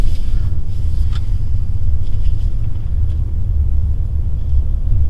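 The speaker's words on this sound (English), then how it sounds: "There's a few bumps that I'm going to take at a little bit higher speeds without braking" A 2021 BMW X7 SUV taken over road bumps at speed without braking, heard from inside as a steady low rumble of road and tire noise with faint higher clatter, no talking.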